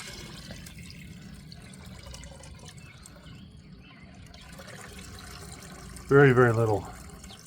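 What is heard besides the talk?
fish hydrolysate fertilizer liquid poured and draining into bucket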